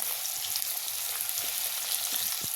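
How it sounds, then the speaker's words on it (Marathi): Masala-stuffed okra (bhindi) frying in very hot oil, a steady soft sizzle with scattered pops and crackles, close and unbroken, no voices. "तेल आता चांगलं कडकडीत गरम झालंय। आता ही जी भेंडी आपण भरून घेतली होती मसाल्यानी, ती ह्यामध्ये मी घालतीये।"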